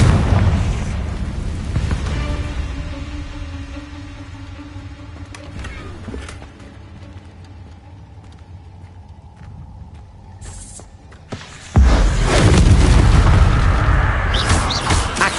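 Confringo explosion spells go off in Hogwarts Legacy, a heavy boom that fades into a rumbling tail, followed later by a second, sharper loud blast and sustained roaring debris.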